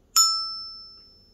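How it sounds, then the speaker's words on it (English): A single struck resonator bell gives one bright metallic ding that rings out cleanly and decays slowly over about a second, alone in quiet. "I have two sounds on my resonator bells."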